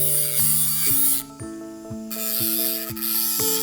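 Dental rotary polishing wheels and brushes spinning at slow speed against a Celtra Duo ceramic restoration, a steady mechanical whine with shifting tones and repeated brief contact clicks, close and alone.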